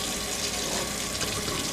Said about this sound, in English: gonna start the water.